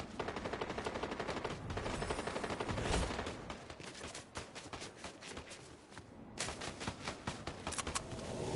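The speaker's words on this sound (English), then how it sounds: "Who's shooting at who and where?" Dense rapid-fire gunfire in a Fortnite match, sustained bursts like automatic weapons crackling continuously with brief lulls, loud and close, with scattered footstep-like shuffles and no speech.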